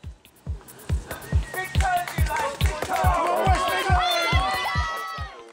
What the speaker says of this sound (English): A large crowd made up of local residents and partisan supporters from the regions were kept informed by MC Tim Buckle